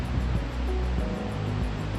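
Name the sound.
Cismon waterfall flowing past a dam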